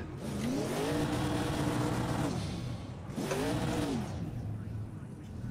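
A race car engine in Project Cars 2 revs loudly twice, each rev climbing in pitch and then dropping back, with a steady idle rumble between them, close and dominant.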